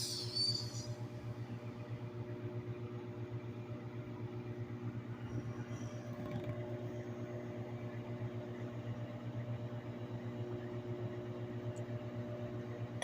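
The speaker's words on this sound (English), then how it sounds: "the microwave spins so fast" A Hamilton Beach microwave oven runs with a steady low hum and faint whir, even and continuous throughout, close by with no talking.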